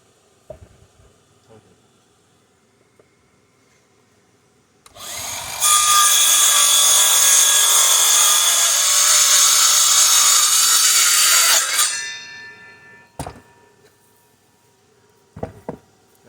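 Scrap wood being cut into legs for plant stands with a power saw, one loud continuous cut of about six seconds between quiet stretches, followed by a couple of sharp knocks.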